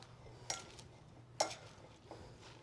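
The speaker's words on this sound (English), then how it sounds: "Give it a good mix, a real good mix." Greek salad ingredients tossed and stirred in a bowl, with two sharp clinks of a utensil against the bowl and softer scraping between them, close and fairly quiet.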